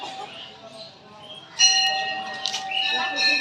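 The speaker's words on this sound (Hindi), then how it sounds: "घंटी बजा मु धरछु" A bell rung inside a Hindu temple of Maa Sarala, sounding as a bright metallic clang that rings on amid crowd murmur and a speaking voice, fairly close.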